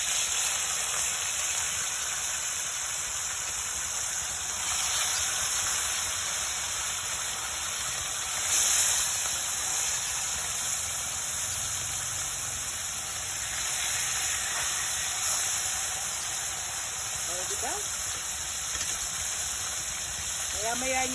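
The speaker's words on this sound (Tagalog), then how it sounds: "habang dito sa kabila ay mainit lang ating mantika, pwede na po natin ilagay ang ating isda." Tilapia fillets crackle and sizzle in a pan of hot cooking oil, a steady broadband hiss running the whole time with small pops and flare-ups, fairly close and moderately loud, with no talking over it.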